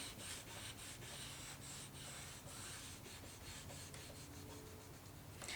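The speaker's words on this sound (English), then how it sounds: "So give it a super hard burnish in the middle" Steady, quiet rubbing strokes of a burnishing tool pressed hard over glued Kraft-Tex on a book cover, a continuous close scraping with faint rhythmic pulses.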